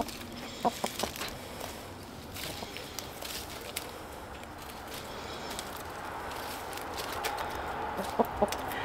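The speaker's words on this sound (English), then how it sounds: "very spoiled chickens" Chickens cluck softly nearby with scattered sharp pecks and clicks, a low steady murmur of fowl in a quiet outdoor setting.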